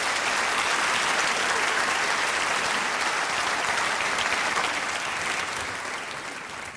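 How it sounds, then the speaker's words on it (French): Audience applause from a theater crowd, dense and sustained clapping that holds steady then begins to fade toward the end. "On peut les applaudir, parce que ça va quand même être une épreuve très difficile pour eux."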